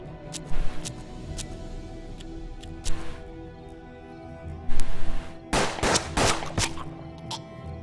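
Gunshots in the turn-based western game Hard West: a few isolated sharp shots, then a cluster of loud reports near the end over a quiet ambient backdrop.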